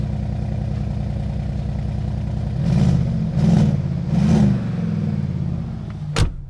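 A turbocharged Lamborghini Gallardo engine idles with a rough, steady exhaust burble, then three quick revs swell and fall in succession before a sharp click near the end.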